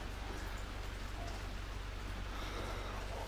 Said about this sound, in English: So it's sort of just raining inside.